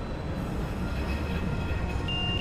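A train in the automated-lines video game, a steady rolling rumble with a faint high squeal, continuous and fairly close with no talking.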